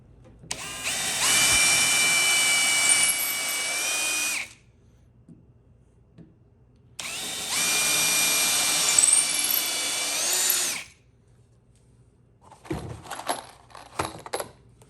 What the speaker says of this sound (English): I'm going to drill my 2 pilot holes